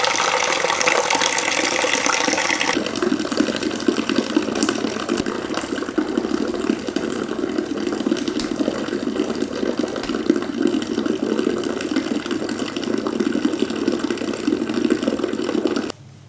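Beer wort pouring from the opened valve of a Speidel Braumeister 10 L into a fermenter, a steady, close rushing and splashing of liquid filling the vessel that runs unbroken for about sixteen seconds and stops abruptly.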